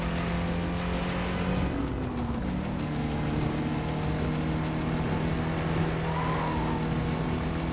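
Race cars in Need for Speed: Carbon roar steadily throughout, with sustained engine drone, a rising pitch sweep near the end and tire squeal layered over the racing din, loud and close.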